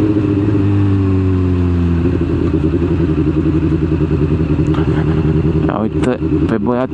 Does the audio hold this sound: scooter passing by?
yes